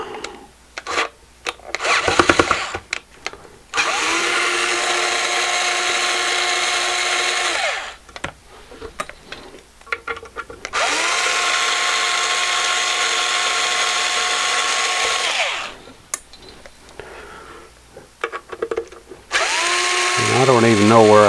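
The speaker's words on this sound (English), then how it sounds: "let's just take the screws out of it." Power screwdriver backing screws out of an old box: two long sustained whirring runs of several seconds each, separated by short clicks and handling noise, with a third burst starting at the end, loud and close.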